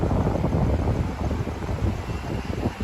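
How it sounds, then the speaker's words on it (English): Strong hurricane-season wind blowing outdoors in Miami, a loud rumbling roar buffeting the microphone in continuous gusts with no voices over it. "The wind this past couple days have been insane."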